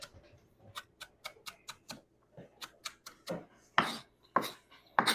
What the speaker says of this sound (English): going to take this and just chop that joker up